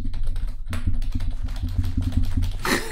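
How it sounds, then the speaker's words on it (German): Fingers rattle quickly across a laptop keyboard while Minecraft is being played, a close, continuous patter of crisp key clicks with brief pauses and a louder cluster of keystrokes near the end. "Spielst du gerade Minecraft über die Tastatur von dem Laptop?"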